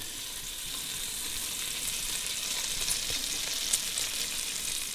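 Strips of bacon browning in a pan give off a steady, close, dense sizzle and crackle that holds evenly throughout, with no voices over it.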